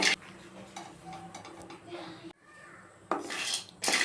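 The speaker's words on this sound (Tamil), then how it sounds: "பாதாம் வறுத்துக்கலாம் பாதாம் நல்லா கொஞ்சம் வறுபடட்டும்" Almonds tossed and dry-roasted in a pan, with intermittent scraping and clinking of a spatula against the metal, moderately close with faint background hum.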